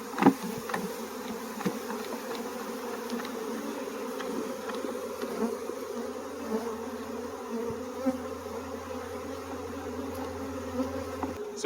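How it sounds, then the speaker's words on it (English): A dense, steady hum of many honeybees fanning and buzzing close by as a bee package is installed in a hive, a low droning swarm sound with faint taps and shifts throughout. "the bees are starting to work down, and they're immediately fanning"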